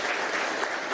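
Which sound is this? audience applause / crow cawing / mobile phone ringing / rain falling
audience applause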